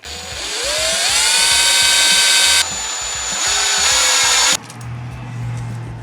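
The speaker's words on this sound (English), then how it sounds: "I'm going to screw into the end of a dowel" A power drill driving a screw into the end of a wooden dowel, a close, loud rising motor whine that steadies, dips briefly, then stops with a short clunk.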